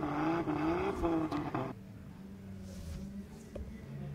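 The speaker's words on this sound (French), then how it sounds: "Enzo Suras à la manœuvre avec sa E30 qui va retourner du coup sur la piste, sur une piste mouillée" A BMW E30 drift car on a wet track at a drift competition, engine note droning and then fading into distant car noise while a commentator talks over it.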